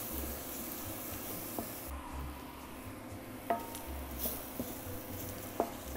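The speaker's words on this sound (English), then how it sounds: "we're just going to let that brown with the garlic and the shallots" Flour browns in a pan with garlic and shallots, making a faint, steady sizzle with occasional soft clinks and scrapes from stirring.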